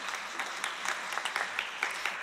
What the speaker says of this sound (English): Please clap for that quote.